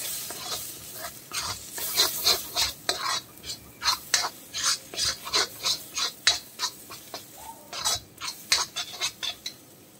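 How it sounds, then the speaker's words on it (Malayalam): A spoon stirs chili powder into a sizzling North Indian fish curry masala in a pan, giving a rhythmic run of scraping strokes over soft frying, close and clear, with no speech. "ഇനി നന്നായിട്ടൊന്ന് ഇളക്കി യോജിപ്പിക്കുക."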